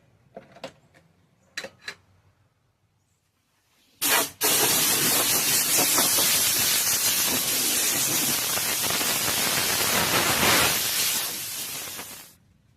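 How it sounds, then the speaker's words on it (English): Compressed air blasts loudly and steadily from a nozzle, blowing debris off a stripped car headliner board for a Chevrolet Sierra interior job, with a few short knocks first and then about eight seconds of continuous hiss. "just blow it off with some compressed air and call that good"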